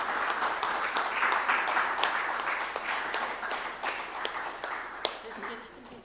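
A university lecture audience in Alicante applauding steadily, dense clapping that fills the whole stretch, with a few sharper claps standing out near the end.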